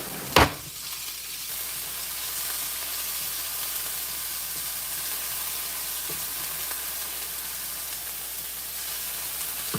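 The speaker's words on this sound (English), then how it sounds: "So now we're gonna go ahead and cook the shallots and the jalapenos." Shallots and jalapenos frying in a pan, giving a steady close sizzle and hiss after a sharp clunk at the start, with no one talking.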